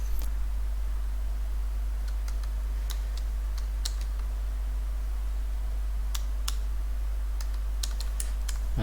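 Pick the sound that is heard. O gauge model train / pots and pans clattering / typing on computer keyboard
typing on computer keyboard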